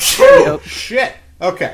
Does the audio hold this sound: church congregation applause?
no